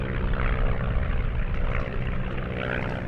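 A vintage Ryan SCW monoplane with fixed undercarriage and a Warner Scarab radial engine drones past at an airshow, a loud steady propeller roar that swells and eases slightly.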